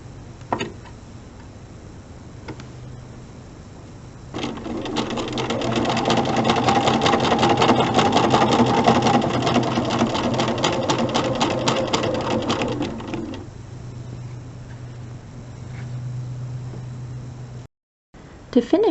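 A sewing machine stitches quilt block corner units in one continuous run of rapid, even needle clatter lasting several seconds. Quieter room sound comes before and after the stitching.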